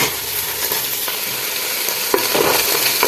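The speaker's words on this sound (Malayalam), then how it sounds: "നമ്മൾ വെളുത്തുള്ളി ഇഞ്ചി ഇഞ്ചി പിന്നെ പച്ചമുളക് ചേർത്തു ഉള്ളി പൊരിച്ച് വെച്ചു" Onion frying in oil with garlic, ginger and green chili, a steady dense sizzle running close and loud throughout with occasional stirring scrapes, no voices.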